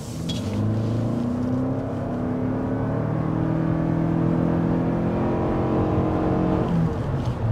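A 2024 Toyota Grand Highlander XLE hybrid accelerating, heard from inside as a steady, continuous engine and motor drone that rises gradually in pitch over several seconds, with tire and road noise underneath and no talking.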